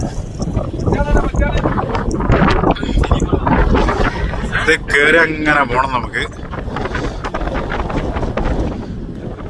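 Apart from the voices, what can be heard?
strong wind on top of a tower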